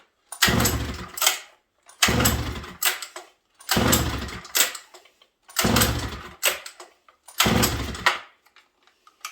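A Dolmar 153 chainsaw pull-started five times in a row with fuel poured into the carburetor, each pull a loud close ratcheting whirr lasting about a second that never catches, separated by brief silences.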